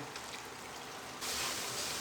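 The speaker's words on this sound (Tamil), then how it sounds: "நல்ல கெட்டியாக கரைச்சி வச்ச புளி தண்ணியை ஊற்றிக்கலாங்க" Thick tamarind water pours steadily into a pan, the rushing sound growing louder partway through, with no talking.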